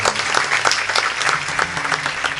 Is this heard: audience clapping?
yes